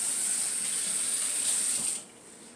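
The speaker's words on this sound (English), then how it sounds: "I like to rinse off the cans" Tap water runs steadily over food cans being rinsed in a kitchen sink, a continuous close hiss of flowing water that cuts off near the end, leaving quiet room tone.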